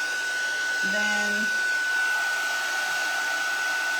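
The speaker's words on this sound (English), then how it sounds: "that's why I'm holding this up and moving it around with the heat tool" A heat tool blows hot air on wet tape with a steady, close whooshing hum that runs throughout, and a short word is spoken early on.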